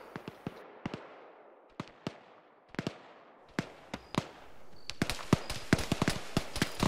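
Distant gunfire in Arma 3: scattered single cracks echo across open ground, then quicken into a denser, irregular volley toward the end, with no talk.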